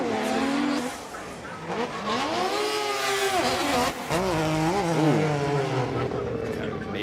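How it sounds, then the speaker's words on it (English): A race car engine at a drift qualifying event on a snowy course screams at high revs while barely moving, the pitch climbing and wavering through sustained bursts, loud and close, with talk over it. "Sounded like it was up in the RPMs, it just wasn't moving"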